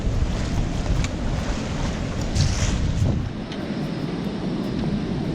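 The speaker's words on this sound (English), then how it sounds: "have a look at these waves hitting this reef" Steady roaring surf and wind fill the scene, a broad continuous wash of huge waves breaking on a reef at Maitland Bay, with gusts buffeting the microphone.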